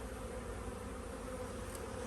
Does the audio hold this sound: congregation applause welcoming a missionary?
no